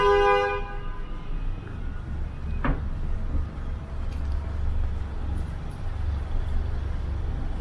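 A car horn gives one short, sharp honk at a pedestrian at the start, followed by a dull thump and the low rumble of city street traffic in Toronto.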